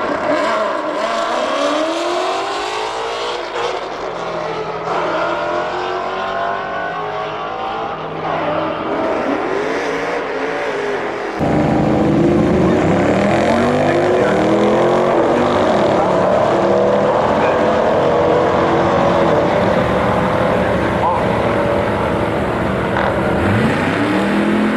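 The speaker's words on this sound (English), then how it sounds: "This Durango drag race." Dodge Durango SRT and Hellcat engines roar loud and close in a drag race, revving hard with rising gear sweeps and a sustained full-throttle blast that jumps louder partway through.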